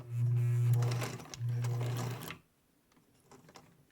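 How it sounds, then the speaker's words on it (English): A Singer sewing machine fitted with a narrow hemmer attachment runs in two short bursts of steady, close-up stitching with a brief pause between them, then goes quiet. "you're going to stitch about 4 or 5 stitches just to kind of hold it and lock it in place"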